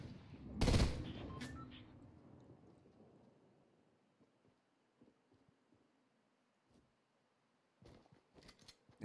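A loud burst of gunfire in Fortnite rings out near the start and decays slowly, followed by faint scattered shots and clicks later on.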